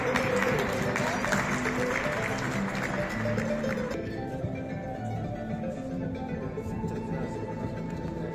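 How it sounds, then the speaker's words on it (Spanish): Applause from a crowd at a medal-awarding ceremony for fraternity founders, a dense steady clatter of clapping that thins and fades partway through. "Fuerte los aplausos, por favor."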